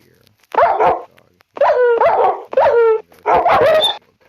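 A Minecraft dog, a dingo or African wild dog in an animal battle, gives four close, loud yelping barks in quick succession, with short gaps between them.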